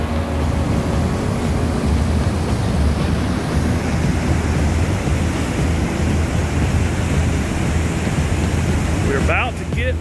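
Roaring white water of a waterfall along the Mist Trail in Yosemite, a loud, steady broadband rush that fills the whole stretch, with wind buffeting the microphone and a brief voice near the end.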